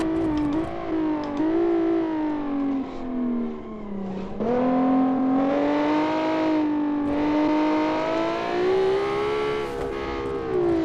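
A turbocharged car engine revs in BeamNG Drive, its pitch rising and falling continuously as the motor is held under heavy boost, loud and close throughout with no talk.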